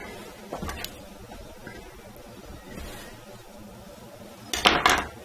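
A pot of heavy cream is set onto a kitchen stove with a few scattered metallic clanks and clinks, the loudest cluster near the end, over a quiet room without talk.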